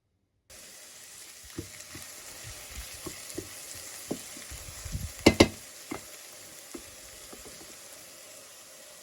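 Onions sizzle steadily in hot oil in a pan, a soft crackling hiss with occasional louder pops and a brief clatter of stirring.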